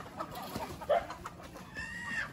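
Native chickens cluck in a coop, several short clucks and squawks, one louder near call, against a low farmyard background.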